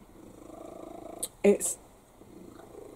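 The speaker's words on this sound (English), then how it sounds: "You're purring really loudly, boy." A male cat purrs loudly and steadily in a rhythmic low rumble, close up, while a person speaks briefly over it.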